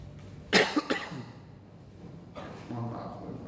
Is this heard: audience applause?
no